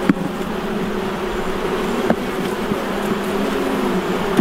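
Honey bees swarm thick around an open hive during an inspection, a steady, dense drone of many wings holding close and loud throughout, with a few faint knocks.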